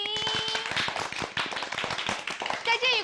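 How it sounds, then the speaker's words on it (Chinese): An audience on a children's television quiz show gives a burst of dense applause to welcome a guest, mixed with a voice speaking over it. "掌声欢迎"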